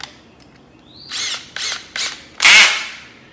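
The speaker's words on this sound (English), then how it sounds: "I'm gonna pre-drill" Four short bursts of a power drill pre-drilling through a wooden 4x4, each whirring up and cutting off, the last one longest and loudest.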